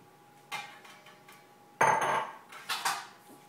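A knife cuts the stem and root ends off an onion on a board, making a few sharp knocks and clacks with a louder chop in the middle, close and otherwise quiet.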